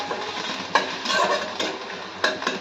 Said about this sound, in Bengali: কুচনো রসুন দিলাম সরষের তেলের মধ্যে গোটা জিরে দিলাম শুকনো লঙ্কা দিলাম